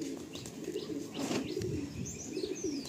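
Long-bodied pigeons in a loft coo in a steady, low, rolling murmur, with a few faint chirps mixed in over a quiet background.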